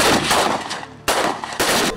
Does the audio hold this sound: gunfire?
yes